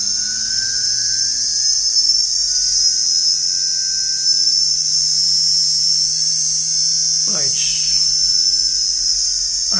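A brushless DC motor driven through a Luo converter whines steadily at high speed, a loud continuous high-pitched tone with a faint lower hum and one brief scrape near the end.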